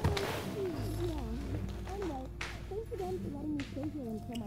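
A cat purrs in a steady low rumble beneath a voice speaking over it, continuous throughout, fairly close and moderately loud.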